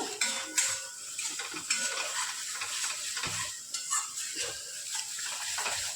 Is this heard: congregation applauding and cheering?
no